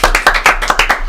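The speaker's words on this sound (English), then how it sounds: "clap for everybody, including myself." A burst of close, sharp hand clapping during a podcast introduction, about ten quick claps in an even, rapid rhythm, loud and with no talking over it.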